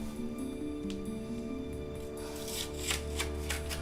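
Paper rustling and tearing as a prize envelope is opened on a home-giveaway show, a soft crinkling that grows into sharper rips near the end, heard alone over a steady low background hum.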